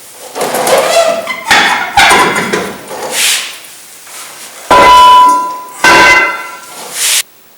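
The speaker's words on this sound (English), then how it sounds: "Remove the wheels and remove the brake drums." Metallic clangs and ringing knocks come from a brake drum being worked off the rear axle of a Chevy S10 truck in a garage, in a few separate close bursts with pauses between.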